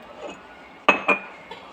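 A spoon stirs milk and honey into a blended jamun fruit drink in a glass, giving a few sharp clinks, with one soft tap and then two brighter hits close together in an otherwise quiet moment.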